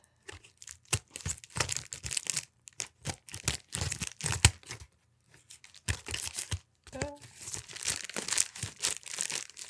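An Amazon package is torn and crinkled open by hand in short bursts of ripping and rustling, close by, broken by brief pauses.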